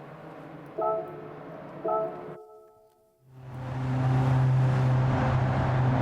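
A stock Renault Kangoo in a Gran Turismo one-make race: two short tonal blips and a brief silence, then a loud, sustained engine drone with a steady hum.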